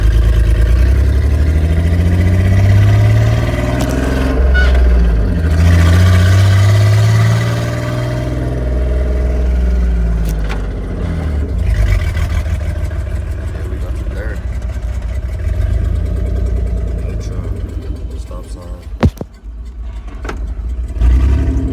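Engine of a Dodge Dakota regular cab pickup with a used transmission, running and driving with a steady low drone and shifts in pitch, heard from inside the cab with a voice talking over it.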